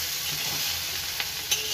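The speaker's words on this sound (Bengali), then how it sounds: "নমক আর হলুদ গুঁড়ো দিলাম। এইভাবে ভেজে নেব।" Thin-cut potatoes fry with salt and turmeric in a pan, giving a constant close sizzle broken by a couple of quick spatula scrapes.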